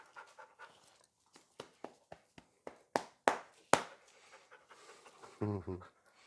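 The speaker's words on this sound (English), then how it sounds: "Wow, the dog is so muddy." A muddy dog pants near the microphone in quick, sharp bursts that grow louder midway, followed by a short whimper-like sound near the end.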